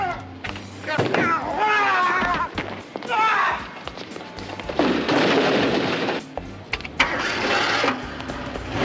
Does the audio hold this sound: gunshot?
yes